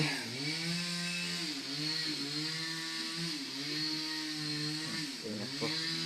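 A chainsaw cutting wood in a forest, its engine droning loud and close in a continuous tone that dips and recovers as the blade bites, revving up near the end.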